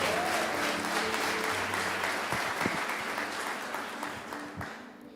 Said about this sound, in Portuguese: Uma salva de palmas para a palavra de Deus em nome de Jesus